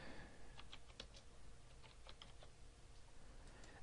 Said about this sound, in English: you can type in a topic